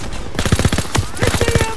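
Machine gun fire from an enemy MG position in a farmhouse hayloft in Call of Duty WWII, rapid loud bursts of shots in a dense rhythmic string with faint voice traces in the battle din.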